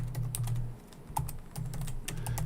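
Someone types an answer on a computer keyboard during a live grammar stream, with rapid, uneven clusters of close key clicks, brief pauses between bursts and a low steady hum underneath.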